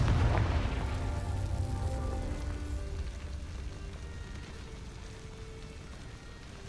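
Confringo blasting curse in Hogwarts Legacy: a sudden loud blast that opens the clip and trails off into a long, crackling, debris-like rumble that slowly fades.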